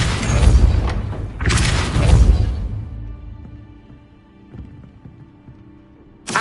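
Two forceful Depulso spell impacts from Hogwarts Legacy land in quick succession, loud, deep booming bursts with a rushing noisy tail, followed by quieter thuds and a short burst at the end.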